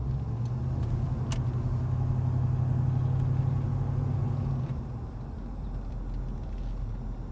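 A 1980 Pontiac Trans Am Bandit Special Edition engine hums steadily while driving, a low, smooth rumble heard from inside the car that eases back to a quieter drone partway through, with no talking.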